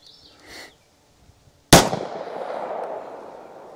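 A single sharp, loud gunshot from a Rock Island 5-inch .45 ACP pistol, firing Winchester Ranger T-Series +P ammunition, cracks close by after a quiet stretch and trails into a long echoing decay.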